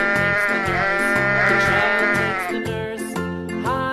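Loud, close sheep bleating in several wavering calls, heard over a bouncy children's song with a steady beat.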